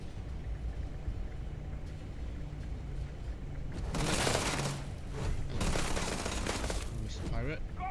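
Starfield firefight with rapid bursts of gunfire that grow louder partway through, laid over constant background battle noise and in-game voices.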